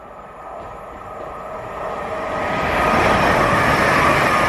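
A low rumbling roar builds steadily as a large vehicle passes, growing louder toward the end, with no voices.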